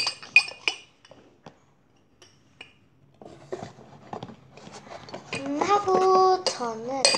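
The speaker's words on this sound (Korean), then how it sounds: "아주 귀여운 숟가락이네요" A small cute spoon freed from bubble wrap gives several light metallic clinks and rubbing rustles, close and fairly quiet, followed by a burst of brighter tonal clattering near the end.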